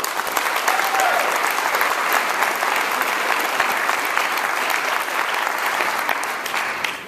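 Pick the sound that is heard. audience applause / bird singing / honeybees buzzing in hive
audience applause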